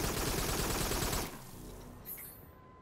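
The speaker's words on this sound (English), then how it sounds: "So what do you think of the gun sound?" Rapid gunfire from the VR shooter game Farpoint on PlayStation VR, a loud dense burst of shots that stops abruptly partway through, leaving quieter game ambience and a faint tone.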